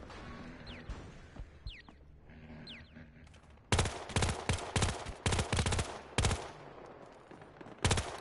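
Bursts of video game gunfire, rapid automatic fire and single shots, loud and close, begin midway after a quieter stretch of ambient game sounds with faint beeping tones.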